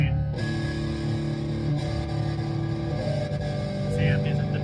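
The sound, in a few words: electric guitar through amp with distortion, gain turned up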